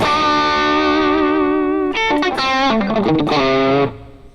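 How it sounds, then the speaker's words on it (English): A Vox AC15 guitar amp with a distortion pedal in front rings out with sustained, buzzing electric guitar chords, then shifts into a run of shorter changing notes before the sound drops away. "put a little distortion pedal in front of it"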